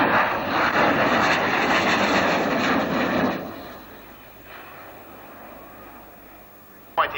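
A fixed-wing aircraft flies tight turns over an airfield at roughly 400 mph, its loud engine roar sustained and then dropping away into a fainter, distant drone, with someone commentating throughout.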